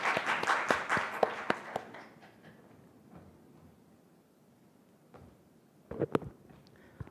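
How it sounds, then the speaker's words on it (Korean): A small audience at a youth speech contest claps before a student's speech. The applause is moderately loud for about two seconds, then fades to near quiet, with a few scattered claps returning later. "김선재 학생의 연설을 박수로 들어보겠습니다."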